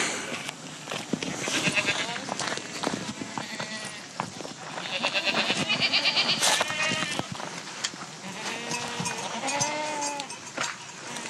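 Several goats bleat repeatedly, their wavering cries overlapping at close range, with people talking and shouting in between.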